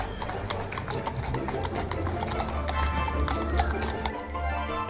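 Horses' hooves clip-clop in a brisk, steady rhythm across a Bruges town square in Belgium, with a faint mechanical rattle from a carriage and low background hum.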